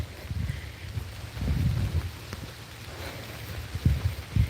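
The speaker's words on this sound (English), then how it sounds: "is walking in the rain" Rain falls outdoors during a walk, a steady patter of drops against surfaces with soft thumping footfalls and light wind rumble at the microphone.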